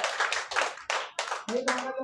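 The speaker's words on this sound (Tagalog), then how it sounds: "Sige, palakpak para sa Panginoon." Church congregation clapping during a worship service, several bursts of loud hand claps in quick succession with a short pause between them, then the clapping thins as an electronic chime joins at the end.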